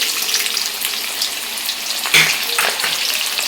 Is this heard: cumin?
yes